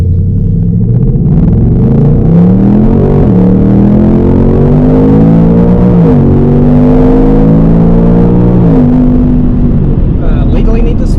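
A 2024 Ford Mustang GT engine pulls hard while driving, a loud close rumbling roar that climbs in pitch through several gear shifts, with a brief stretch of talk near the end.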